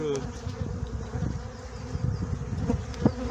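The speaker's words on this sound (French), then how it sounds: "Pas très agréable de travailler avec ces abeilles-là." Honeybees swarm around an open, crowded hive during a pre-harvest check, their dense, steady buzz running loud and close throughout, with a few louder passes near the end.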